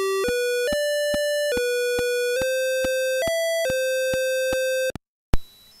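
An Atari home computer sounds a sequence of pure electronic beep tones, each note evenly spaced at the same interval, loud and clean, followed by a short silence and a click.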